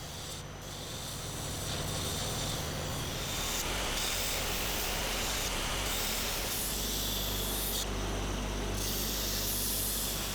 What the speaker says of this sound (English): So again, I'll use the belt sander.